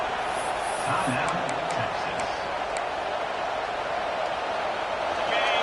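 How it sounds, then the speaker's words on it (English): A football stadium crowd at a Texas versus USC game roars as the defense tries to hold near the goal line, a dense, sustained wash of noise from many voices that keeps up for the whole stretch. "the crowd really making some noise now, trying to help out this defense to get this stop near the goal line"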